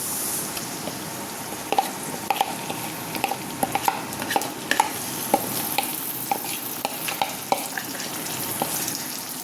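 Marinated vegetables for a veg biryani hiss and sizzle in hot oil while a spoon stirs them, with a steady frying crackle punctuated by irregular clinks and scrapes, close and alone without speech.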